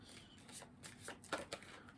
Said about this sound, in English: So if you want to skip over me shuffling, you're more than welcome to.